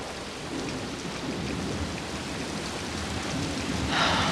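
Steady rain falls through a night thunderstorm, a dense even hiss with a low rumbling undertone, swelling slightly louder toward the end, with no voices.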